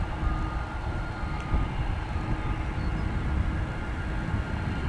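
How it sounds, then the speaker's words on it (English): UPS cargo plane taxiing on the airport apron at DFW Airport, a steady low engine rumble and broad hiss holding even and moderately loud throughout, with no talk. "Chugging down the apron is this UPS cargo plane."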